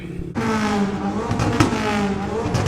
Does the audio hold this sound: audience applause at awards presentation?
no